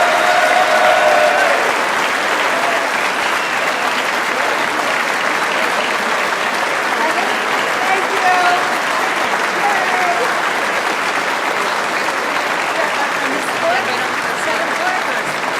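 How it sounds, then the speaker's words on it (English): A large audience at a university presidential investiture ceremony applauds loudly and continuously, a dense wash of clapping with some crowd murmur that holds steady from start to finish. "So one more round of applause."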